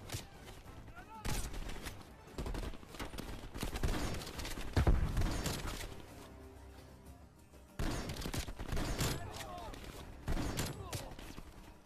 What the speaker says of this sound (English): I need to reload my sniper!